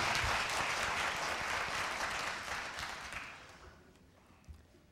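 Applause from a crowd, loud and dense at first, then thinning and fading away over a few seconds until only scattered claps remain.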